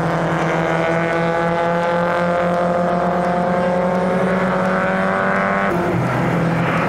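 A vintage race car engine roars loudly and steadily as it accelerates back on the power during a historic motor race, its rising tone holding throughout before a gear change near the end.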